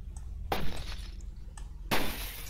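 Window glass breaks in The Dark Mod, an old-style Doom 3 glass effect. Two sharp, close shattering crashes about a second and a half apart, the second louder and trailing into tinkling debris.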